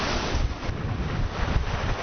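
Strong headwind buffets a sailing boat at sea in the English Channel, a loud continuous roar of wind noise on the microphone mixed with rushing water and choppy waves, no voices.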